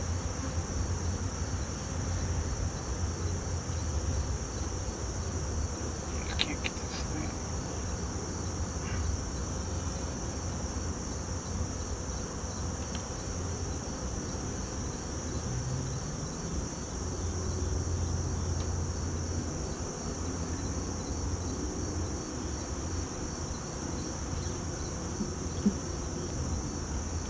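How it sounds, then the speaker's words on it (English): Honey bees buzz in a dense, continuous drone during a hive cutout, a steady swarm hum that stays even throughout, with a voice speaking briefly near the start. "I think it's just all those bees up there just flat out lost"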